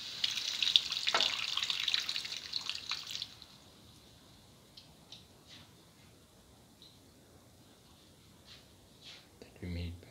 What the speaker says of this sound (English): Put in the tamarind water.